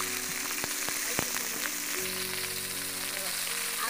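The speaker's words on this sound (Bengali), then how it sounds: "পেস্টটি ভাজা হওয়ার জন্য আমরা অপেক্ষা করি।" Spice paste frying in a pan as it browns, a steady soft sizzle with faint clinks, heard close with a low background hum.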